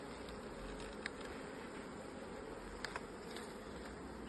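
Honeybees buzz around an opened beehive during a frame check, a faint steady hum with a few brief closer buzzes.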